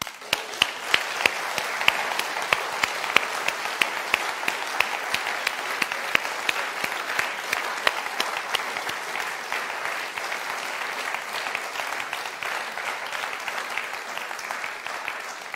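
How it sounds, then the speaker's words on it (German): A church congregation applauds steadily and loudly for about fifteen seconds, dense even clapping filling the room without any voices over it. "Jetzt müssen wir klatschen."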